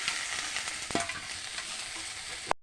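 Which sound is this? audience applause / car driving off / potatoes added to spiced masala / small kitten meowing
potatoes added to spiced masala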